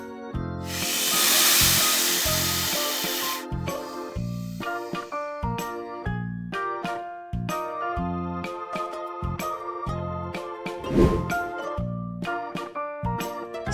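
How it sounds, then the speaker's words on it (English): A coral snake hissing: a loud, steady, breathy hiss lasting about three seconds at the start, then gentle tinkling background music continues alone. "Coral snake."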